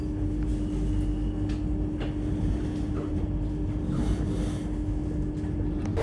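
A Vande Bharat Express runs between Sultanpur and Ayodhya, heard from inside the AC chair car as a continuous low rumble with a steady hum and faint rattles and clicks.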